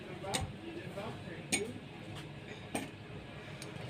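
Lemon slices dropped into a glass already filled with ice for watermelon juice: three sparse, quiet clinks and taps spaced about a second apart over a soft background hiss.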